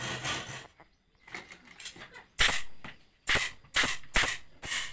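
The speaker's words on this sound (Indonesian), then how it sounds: "ini manfaatnya kita menggunakan tembak paku, jadi kita akan lebih cepat dalam pekerjaannya, cepat selesai" A pneumatic nail gun fastens a bamboo chair: scraping and rubbing on bamboo, then several sharp, loud pops in quick succession near the end.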